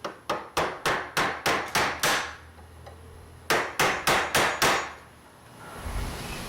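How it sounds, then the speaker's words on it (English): Hammer tapping a pin into an AR upper receiver held with pliers, a rapid run of about eight sharp metallic taps, a short pause, then five more, close and loud. "I'm just going to give it a couple of taps here as I'm holding it with my pliers here just to get it started."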